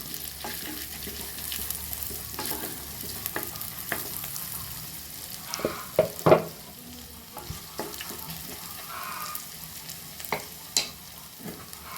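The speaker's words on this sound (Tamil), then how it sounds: "வெள்ளை பூண்டு அதையும் சேர்த்துக்குவோம் அதே போல் கட் பண்ணி வச்சுருக்க வரமிளகா சேர்த்துக்கோம் நல்லா வதங்கட்டும்" Garlic and dried red chillies sauté in oil for spicy Pallipalayam chicken, a soft continuous sizzle broken by intermittent spoon scrapes and taps against the pan, close up with no voices.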